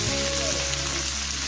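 Onions frying in a pan, a steady hiss of sizzling oil under a low hum, with faint scraping as they are stirred, continuous and close.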